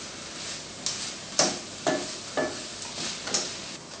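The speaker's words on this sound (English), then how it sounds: "You can nice hear the sounds, le son des oignons when they're cooking" Onions frying in a pan for tartiflette, a steady soft sizzle broken by several sharp stirring scrapes and clinks at irregular intervals, close and moderately quiet.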